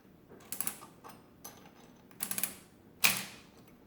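A Friden STW10 mechanical calculator, fouled by an animal nest, runs an addition after its plus key is pressed, giving a few quick bursts of clattering mechanical clicks and whirs that end in a sharp louder clack.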